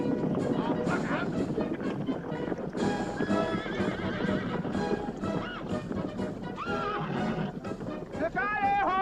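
Cavalry horses in a 1979 war film battle scene: rapid, loud hoofbeats gallop close by, and shrill whinnies rise near the end, mixed with shouting voices and wind.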